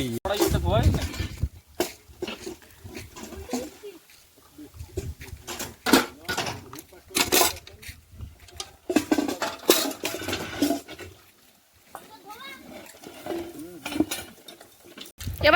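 Washed pots, pans and utensils clatter and clink as they are handled and stacked on a raised platform during cooking before a puja, with irregular bursts of metallic knocks heard under ongoing conversation.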